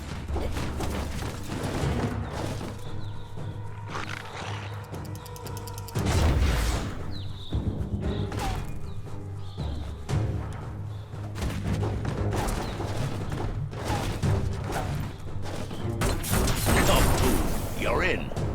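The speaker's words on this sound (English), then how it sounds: "Shoot it and watch it blow." In Biomutant, an explosive object blows up after being shot, giving a heavy boom around the middle, set among busy mechanical game effects, clanks and combat noise that carry on throughout.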